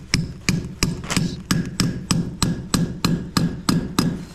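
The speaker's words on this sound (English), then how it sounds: "then we just hold it and then start hammering" Steady hammer blows drive a metal rod into a drilled hole in hard concrete, about a dozen sharp, evenly spaced metallic strikes close by with no talking.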